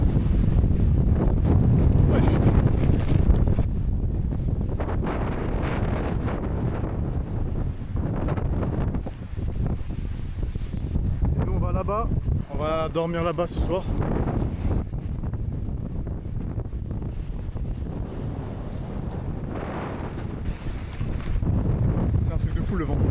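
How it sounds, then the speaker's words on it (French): Strong wind buffets the microphone on the GR21 mountain hiking trail, a steady roaring rush throughout, with someone talking over it. "il y a beaucoup trop de vent"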